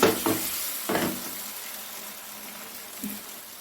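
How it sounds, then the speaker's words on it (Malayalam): Soybean egg masala puttu mixture gets stirred and mixed against a sizzling pan, a few soft scraping strokes at the start and again near the end over a steady frying hiss. "നമുക്കൊന്ന് ഇളക്കി യോജിപ്പിക്കാം"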